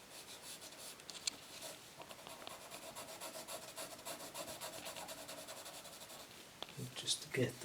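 Steady dry scratching and rubbing of a charcoal pencil on paper, close up, with soft rhythmic strokes continuing throughout and a few sharper taps near the end.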